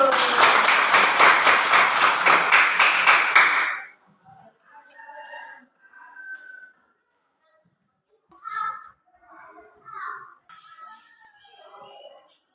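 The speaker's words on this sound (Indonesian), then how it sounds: "Ya, tepuk tangan dulu." Children in a classroom clap hands together in a quick, even rhythm of sharp unison claps for about four seconds, then stop, leaving faint scattered voices talking in the room.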